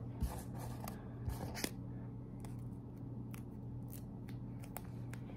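Scissors snip through paper for a paper cow cafe craft, giving a few quick crisp cuts and then lighter intermittent snips over a quiet low background hum.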